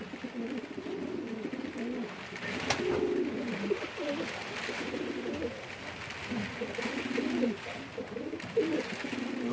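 Young rare-coloured racing pigeons in an allotment loft cooing, close soft throaty coos overlapping continuously over a low background murmur.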